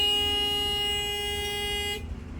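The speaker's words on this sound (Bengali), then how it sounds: "আবার হর্ন দিয়েছে আবার বোটেও হর্ন" A houseboat horn on a river blares one long sustained tonal note up close, then cuts off, leaving a low engine rumble.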